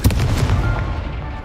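Confringo explosive spell cast in Hogwarts Legacy, a single sharp blast with a booming burst that rumbles and fades quickly, close and loud.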